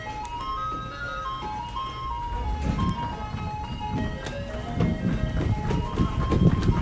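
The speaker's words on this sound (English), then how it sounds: "Wait, I've heard this before. It's the ice cream truck." Ice cream truck jingle, a tinkling melody of repeating bright tones drifting from a passing vehicle, with engine rumble and footsteps growing louder underneath toward the end.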